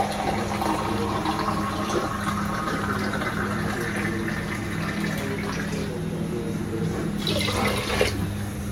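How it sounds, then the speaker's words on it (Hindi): Water poured into a cooking pot in a home kitchen, a steady close gushing pour over a low constant hum, with a brighter splash near the end. "इसमें है पानी बहुत ज्यादा कम, तो पानी ऐड करना है।"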